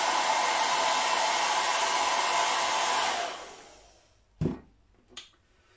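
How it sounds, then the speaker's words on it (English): A hair dryer blows steadily at a mini wind turbine mounted in a tray, a loud close whoosh that switches off and fades, followed by two sharp knocks. "using our wind source, which is the hairdryer"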